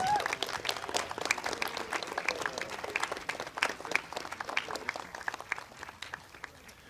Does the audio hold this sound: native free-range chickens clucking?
no